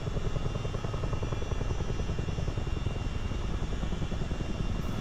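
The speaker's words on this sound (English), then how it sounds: "Military helicopters are pretty cool, obviously. Choppering around in one right now." A CH-47D Chinook military helicopter flying in a multiplayer video game, its steady rotor chop and engine drone continuous and loud throughout, with no talk.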